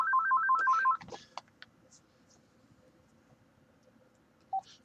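A telephone ringtone sounds in a repeating warbling two-tone pattern for about a second, then cuts off, followed by a few faint clicks and one short beep later on.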